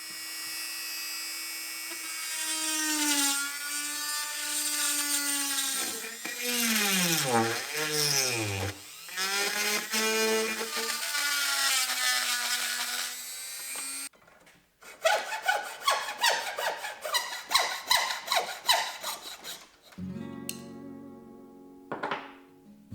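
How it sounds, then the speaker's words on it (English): A rotary tool fitted with a cutting bit shapes the tang slot of a knife handle. Its high whine rises and falls in pitch as it bites, then gives way to rapid rough grinding bursts and a final harsh buzz. "I used a cutting bit and a rotary tool to finish shaping the tang slot."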